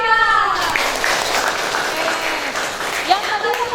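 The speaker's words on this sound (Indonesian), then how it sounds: "Tepuk tangan buat Richard." Classroom applause for a student, a brief burst of clapping from the class with voices and cheering mixed through it, fairly close and steady.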